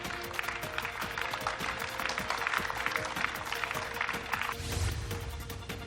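A group of migrant workers claps to encourage a crying woman: a busy, continuous patter of many hands clapping at close-to-moderate range, with a faint steady hum beneath and a brief rise in intensity near the end.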